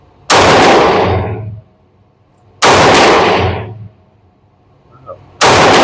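Shots from a Taurus G2C or G3C budget pistol fired at a target, three loud sharp reports spaced a couple of seconds apart, each with a ringing decay and outdoor echo.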